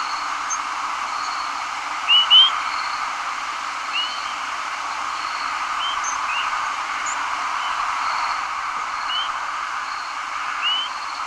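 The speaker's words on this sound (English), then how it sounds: "Those are Swainson's thrushes." Swainson's thrushes calling in night flight during spring migration, heard from a house as scattered faint, short high notes, a couple of them louder, over a constant broad hiss of background noise.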